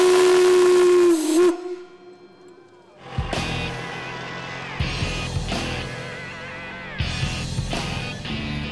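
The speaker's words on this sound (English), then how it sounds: "It's got a big whistle on it. And we'll blow the whistle." A big steam engine whistle at an antique machinery fair blows a loud, steady shriek for about a second, then the engine's hissing steam and mechanical chuffing continue in bursts nearby.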